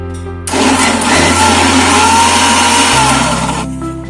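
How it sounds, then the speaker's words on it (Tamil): A kitchen blender grinds mango pieces for juice, starting abruptly and running loud and steady for about three seconds with a shift in pitch before spinning down. "நான் இது எல்லாத்தையும் அரைச்சு எடுத்துட்டு வரேன்."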